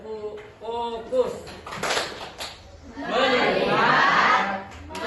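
A classroom of children chants a focus clapping routine led by a teacher, with loud rhythmic hand claps between sung voices and a swelling burst of group clapping and cheering near the end.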